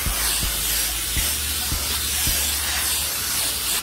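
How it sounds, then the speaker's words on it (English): Nonstick cooking spray hisses steadily onto the grill grate of a preheated Green Mountain Grills smoker, one continuous close spray lasting about four seconds with a few faint low knocks underneath. "We'll spray it down with a little nonstick cooking spray"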